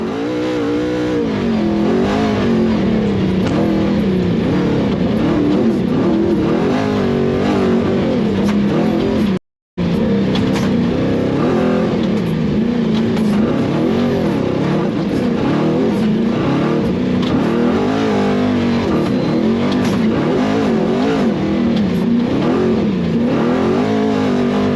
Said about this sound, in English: let's just listen to that truck eat